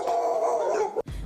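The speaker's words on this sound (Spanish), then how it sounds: "Ahí se escucha los ladridos del perro, de varios perros en realidad." Dogs barking outside a house after repeated knocking at a door went unanswered, a sustained yelping chorus that runs steadily, then cuts off briefly before a lower rumble resumes.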